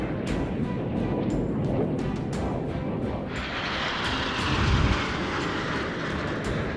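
Red Arrows jets flying as a formation of nine aircraft at an air display, giving a steady, loud, broad engine roar that swells slightly toward the end with no break.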